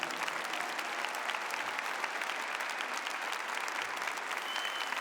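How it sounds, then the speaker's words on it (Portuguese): A church congregation applauds steadily during a New Year's Mass, a dense, even wash of clapping from a large crowd that fills the whole stretch without pause. "Eu queria que você aplaudisse o Monsenhor Jonas Abib"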